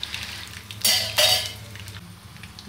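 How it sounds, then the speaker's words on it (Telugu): A tempering of garlic cloves, dry red chilies, chana dal, urad dal, mustard seeds and asafoetida frying in oil, with a faint background sizzle and two bursts of metallic clatter and scraping in the pan. "అందులోనే వెల్లుల్లి రెబ్బలు, అన్నీ ఎండుమిరపకాయలు, పచ్చిశనగపప్పు, మినప్పప్పు, ఆవాలు అన్నీ కలిసి అలా పోపు చక్కగా వేగాలి"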